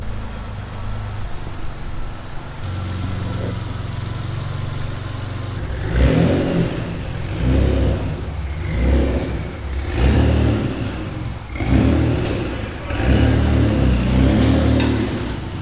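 A Mitsubishi 3000GT VR4 engine idles, then revs repeatedly in loud rhythmic blips while pulling onto a dyno, each burst rising and dropping close by.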